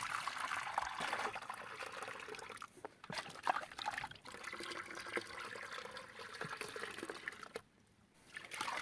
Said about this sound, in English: I'm going to pour it very, very slowly into this pan.